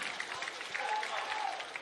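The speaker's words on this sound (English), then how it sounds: "Going to get a hearty round of applause here from both sets of supporters" Crowd applause from both sets of supporters at a high school football game, Rancho Cotate versus Clayton Valley, a faint distant wash of clapping with a commentator talking over it.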